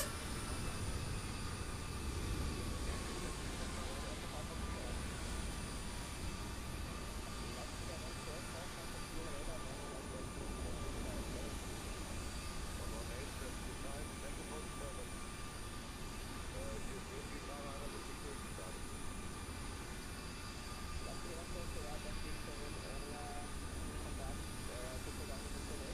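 Steady broadband drone of an aircraft engine in a flight simulator video game, constant and even for the full length, with a voice talking faintly beneath it.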